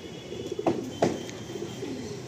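Pigeons coo softly in a loft, a few low throaty calls with faint chirps and soft bumps in a quiet room.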